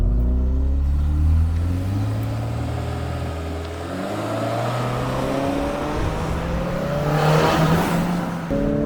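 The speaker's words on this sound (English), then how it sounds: "Brian, Infiniti QX55 in really bright red, but also more importantly, variable compression turbo." Bright red Infiniti QX55 with a variable-compression turbo engine and CVT accelerating hard in sport mode from a standstill, a loud, steady engine drone with rising harmonics through simulated shifts toward 6,000 RPM, heard from inside the cabin.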